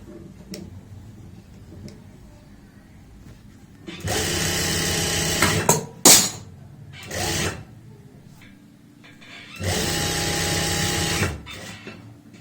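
A sewing machine stitches elastic into the waistband of a loose palazzo in short bursts, several loud runs of a couple of seconds each, separated by pauses and quieter handling sounds.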